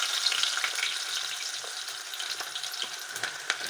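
Cumin seeds and onions frying in oil for goat mutton curry, a steady moderate sizzle with scattered pops and a few light stirring taps near the end.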